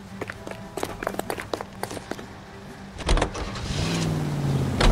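In the LA Noire video game, a car door shuts and the car drives off. Scattered clicks and knocks come first, then a sharp thud and a rising engine hum that swells toward the end.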